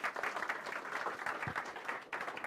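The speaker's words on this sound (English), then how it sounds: "And so let's give Kathleen a nice round of applause." Audience applause at a lecture on building a solar telescope on Haleakala, a steady, moderately distant round of clapping from a crowd lasting the whole clip.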